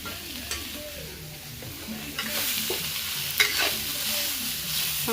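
A soybean roast sizzles and fries in a pan while being stirred, with scraping and clattering stirring strokes over a steady frying hiss, loudest partway through.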